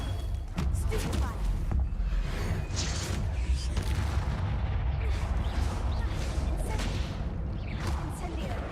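Stunning spell effects firing in a Harry Potter video game, a dense run of booming, thudding blasts over several seconds, loud and close, with a voice talking and exclaiming over them.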